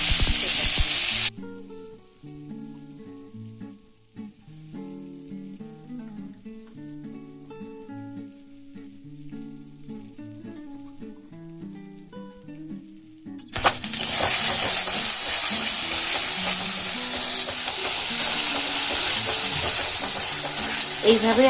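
Nigella seeds and ground bitter gourd hit hot mustard oil, giving a sudden loud burst of sizzling frying that holds steady and close after a stretch of quieter sound.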